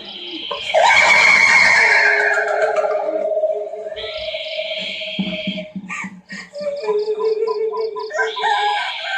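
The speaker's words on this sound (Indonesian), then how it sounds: "Kuntilanak ketawa." A ghostly kuntilanak laughing ringtone plays as a shrill, wavering high-pitched cackle resembling a horse whinny, followed by choppy repeated electronic tones, loud and alone.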